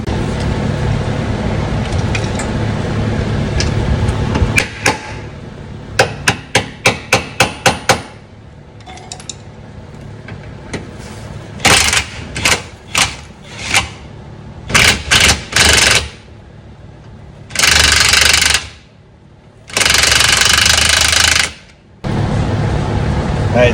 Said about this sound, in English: you can put pressure on it while you're trying to get that impact on there to try and get this bolt out